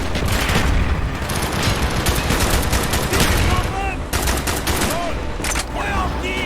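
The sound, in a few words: gunfire in Call of Duty Black Ops video game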